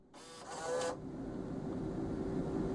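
A cigarette vending machine accepting an inserted bill: a brief mechanical whirr of the bill acceptor pulling the note in, then a steady low motor hum that continues, close and fairly quiet, with no talking.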